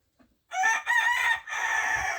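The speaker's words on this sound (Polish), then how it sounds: "pięknie wam koguciki tutaj pieją" A rooster crows close by, a loud drawn-out call in segments that begins after a brief pause.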